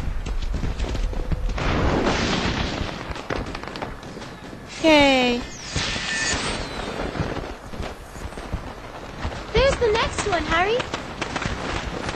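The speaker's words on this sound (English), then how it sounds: "Fred and George make really good fireworks, don't they?" Fireworks in the Harry Potter and the Half-Blood Prince video game: a run of booming, crackling bursts with whistling, rising tones on top, over game music and speech.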